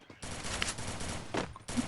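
Rapid bursts of automatic gunfire in the mobile shooting game Free Fire, fairly faint, rattle in several quick clusters with short gaps between them.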